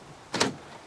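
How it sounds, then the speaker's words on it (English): Volkswagen car door handle being pulled, a single quick plastic clack and thunk of the handle mechanism, close and brief, in otherwise quiet surroundings. "I think the door handle broke."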